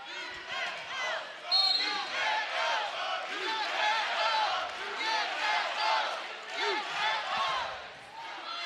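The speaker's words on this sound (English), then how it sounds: "Nice little UNO chant from the crowd" Arena crowd at an NCAA women's volleyball first-round match chanting UNO for Omaha, a loud rhythmic chorus of many voices repeating over and over, filling the hall with echoing cheers.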